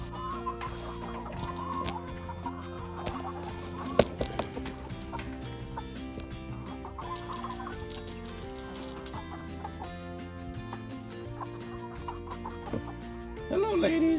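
Several hens cluck and murmur nearby around a nesting box in an ongoing chatter, with scattered sharp clicks and knocks around them.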